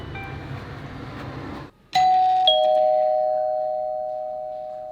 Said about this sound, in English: Let's test the chime.